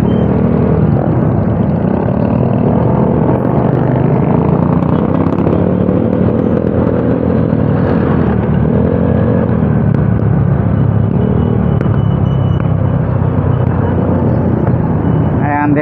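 Steady road traffic rumbles near the Tanza, Cavite bridge, with cars and motorcycles passing on a two-way lane; a continuous, moderately loud drone of engines and tyres, with someone talking over it.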